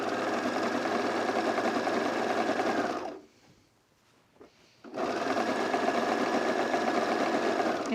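A serger running fast while sewing pajama pant hems, a loud steady mechanical whir that stops briefly for about two seconds and then resumes at full speed.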